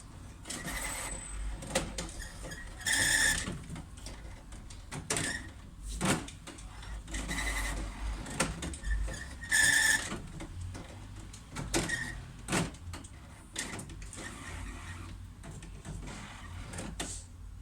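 HP OfficeJet 7612 printer working during an ink cartridge change, with repeated mechanical whirs and carriage clunks in bursts separated by quiet gaps, fairly faint, with no talk.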